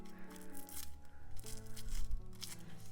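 A My Melody plush is unwrapped, with quiet crinkling and tearing of its packaging in irregular bursts over a low steady background tone.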